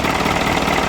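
An Isuzu NPR 4HL1 diesel engine idles after starting, a loud close steady rumble held for about a second with no talking.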